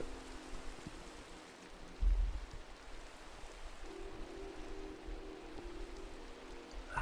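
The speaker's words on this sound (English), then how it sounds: "I hear rain." Rain in Minecraft falls as a soft, steady, quiet hiss, with one brief low thump early on and a faint sustained tone later. No one speaks.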